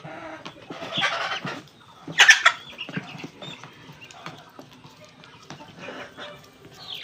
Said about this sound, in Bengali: এই যে বড় মুরগ আমার এটা